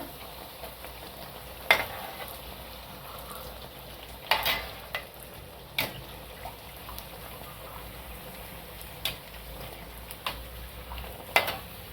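Bhatura is flipped and fries in hot oil for a Punjabi-style chole bhature, a steady soft sizzle broken by a few sharp clinks and scrapes of a utensil against the pan, with no talking.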